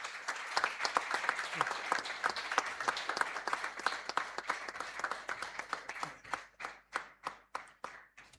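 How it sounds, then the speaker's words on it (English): Hands clap for a medal presentation at an installation ceremony in Goa, first as dense applause from a gathered audience, then thinning toward the end into a few slower, separate claps. "please give a big round of applause"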